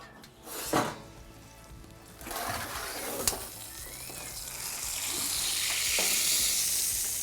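Pork loin sizzles faintly inside a wood-fired oven, a soft hiss that swells gradually into a steadier, brighter crackle, with a few small knocks and clicks early on.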